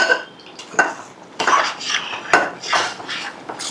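Roasted cashews in ghee tipped onto foxtail millet sweet pongal before the pot is covered, heard as a close run of metallic clinks, clatters and scrapes of pot and utensils.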